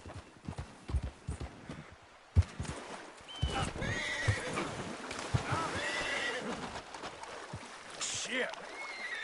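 Horse in Red Dead Redemption 2 clip-clopping over ground and letting out a loud whinny, with hoofbeats breaking into a faster gallop and game voices speaking over the animal sounds.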